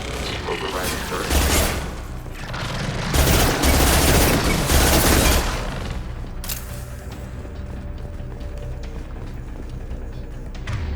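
Sustained gunfire in the Mass Effect 2 video game, dense bursts of shots and booms that swell loudest midway, then ease into a steadier rattle under game noise.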